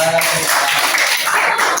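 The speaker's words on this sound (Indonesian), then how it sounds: "Kita tepuk tangan dulu" Dense hand clapping from a small group, rapid and close, fills the clip as brief applause during an indoor lesson on ablution.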